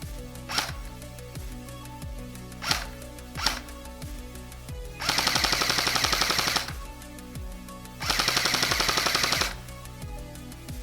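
Bursts of full-auto fire from a JG G36c airsoft replica, two sustained rapid buzzing strings separated by single clicking shots and a repetitive mechanical ticking, fairly close and alone without talk.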